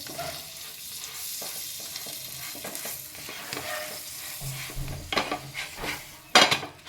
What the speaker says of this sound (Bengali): বাটার দিয়ে প্রথমে এবারে আমি সেঁকে নেব